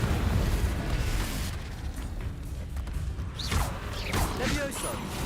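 A Confringo blast spell in Hogwarts Legacy bursts out as a loud, rumbling explosive roar over continuous noisy game sound, followed by several quick swooping magical chirps and crackles.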